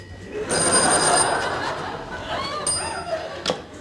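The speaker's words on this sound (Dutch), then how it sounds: "Telefoon." A telephone bell rings loudly during a Dutch television show, a couple of rattling bursts with laughter from the audience mixed in underneath.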